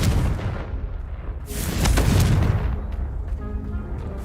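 A Confringo blasting spell explodes in Hogwarts Legacy, a loud booming burst that swells midway and fades into a low rumble, with game ambience continuing beneath.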